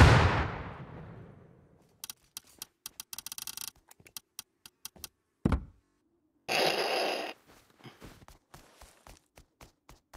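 Sharp gunshots from the console version of the survival game Rust ring out in scattered clusters: a run of rapid cracks, then a lone heavy blast and a longer noisy burst, with silent gaps between.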